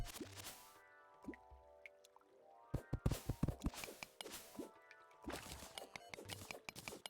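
Water being cleared away in modded Terraria, heard as a run of wet drips and squishy liquid sounds in bursts, some clustered and rapid, over quiet background game music.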